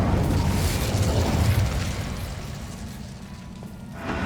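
A Bombarda spell goes off in the game Hogwarts Legacy as a deep, rumbling blast that fades over a few seconds, then a second burst starts at the very end.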